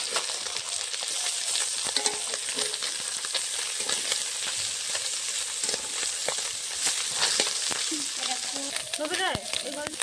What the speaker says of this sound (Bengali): এইখানে মাছ ভাজা হচ্ছে